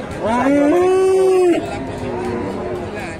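A cow at a cattle market in Bogura gives one long, loud, close moo, followed by quieter lowing amid the background murmur of a crowd.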